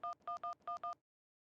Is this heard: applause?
no